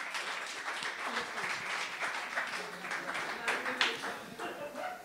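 A church congregation claps and cheers continuously for several seconds, a lively mid-loud applause with scattered voices mixed in.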